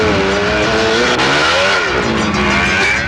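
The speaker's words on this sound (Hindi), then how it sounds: "ये गाड़ियां वाले भी 100 की स्पीड पर चलाते हैं।" Cars speeding through traffic roar continuously and loudly, with engine notes rising and falling as vehicles pass close by, a dense, unbroken wash of motor noise with no talk.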